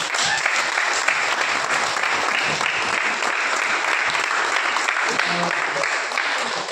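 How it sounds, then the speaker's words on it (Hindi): Sustained, loud applause from an audience at a motivational speech event at a resort in Thane, dense and steady throughout with faint voices mixed in. "हमारे विशाल सर के लिए एक जोरदार तालियां"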